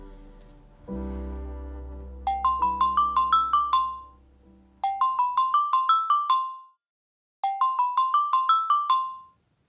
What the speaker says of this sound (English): Lucy calls her friend Mary on the phone